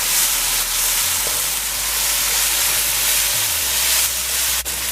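Shrimp and salt tossed into bhunjed masala in a pot for katahar curry, giving a loud, continuous close sizzle and hiss with occasional stir noises.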